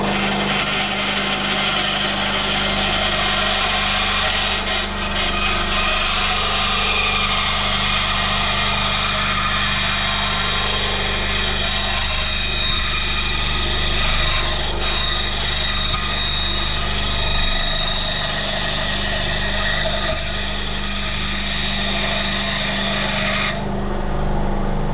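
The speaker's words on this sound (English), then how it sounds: "So let's get on the bandsaw, let's chop it in half, and let's have a look." Bandsaw slicing a Daiwa Double Clutch IZM 60 fishing lure in half, a loud, steady, continuous buzzing rasp of blade cutting through the lure body with a constant motor hum underneath, running unbroken throughout with no talk.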